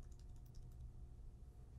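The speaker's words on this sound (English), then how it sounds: "I'm going to zoom up on the beginning of this session by hitting the plus button on my keyboard." A few soft, close keyboard key presses, light clicks over a low steady hum, heard alone without talking.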